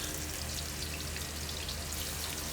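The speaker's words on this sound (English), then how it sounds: "This way we can saute the onions and garlic really well" Onions sautéing in about four to five spoons of hot oil in a pan for a cauliflower and broccoli stir fry, a dense, steady sizzle and crackle, close and constant without talk.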